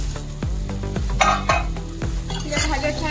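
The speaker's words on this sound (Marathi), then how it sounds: "कमी आचेवर त्या भाज्या छान शिजवून घेणार" Vegetables cook on low heat in a pan with a continuous close sizzle, broken by repeated clinks and scrapes of a spoon stirring against the metal.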